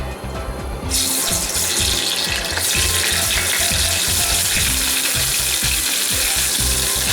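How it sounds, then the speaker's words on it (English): Garlic frying in a small amount of hot oil in a wok, giving a loud, continuous sizzle broken by rapid clicking and rattling, with no speech. "My wok is now hot, so I'll just put some oil, just enough to saute the garlic. I'll put in the garlic."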